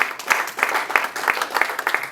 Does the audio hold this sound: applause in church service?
yes